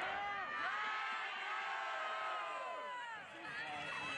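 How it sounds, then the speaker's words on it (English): Soccer stadium crowd in Pittsburgh during an Eastern Conference match, a broad sustained cheer and roar with scattered whoops, loud and continuous, dipping briefly near the end. "Crowd starting to get into a little bit here"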